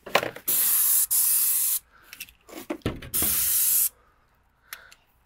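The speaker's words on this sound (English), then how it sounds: "get ready to spray this fence" Two long bursts of an airless paint sprayer spraying a fence, a steady high hiss each lasting about a second or more, separated by short rustling and handling noises.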